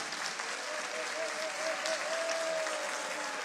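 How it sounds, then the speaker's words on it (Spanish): Audience applause for the organizers at the opening ceremony of the 7th Ficwallmapu indigenous film festival in Temuco, a steady dense wash of clapping from a crowd with a faint tonal hum running beneath. "un aplauso para todos los organizadores de este hermoso festival"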